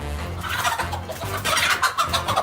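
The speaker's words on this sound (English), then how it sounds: "It's not often you see a chicken taking on a cobra." A chicken clucks loudly and agitatedly close by while confronting a cobra, its harsh, rapid calls filling the whole short stretch.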